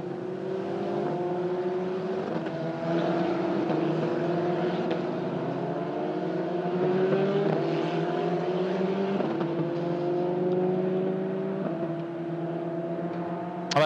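A field of sixteen single-seater race cars at the Magny-Cours circuit, their engines making a steady, distant droning roar that shifts slowly in pitch throughout, with no voices.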